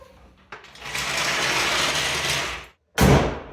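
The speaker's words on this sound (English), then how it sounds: "So now I can get my jack out from under here." A car jack under a 2012 Hyundai Accent releases and lowers with a sustained close mechanical ratcheting whir lasting about two seconds, then a sharp metallic clunk as it is pulled out.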